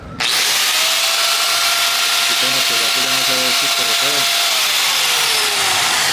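A repaired angle grinder, fitted with new brushes and re-greased gears, spins up sharply and runs with a loud, close, steady high whine, then winds slightly down near the end. A voice briefly talks over it midway.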